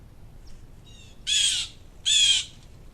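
Blue jays in a backyard at sunrise give two loud, harsh calls, each about half a second long, while harassing screech owls in a nest box. Fainter, shorter call notes come just before them.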